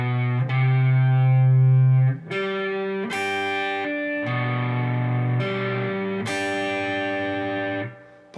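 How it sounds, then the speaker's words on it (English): Distorted electric guitar plays part three of a chorus slowly, sounding a series of sustained power chords about one second each, loud and up close with no voice. "Part 3 played all together in slow."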